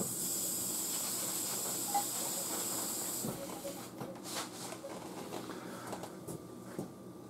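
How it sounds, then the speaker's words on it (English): Cilantro being rinsed under a running kitchen tap, a steady close hiss of flowing water that shifts and splashes a little partway through. "Let me rinse it off."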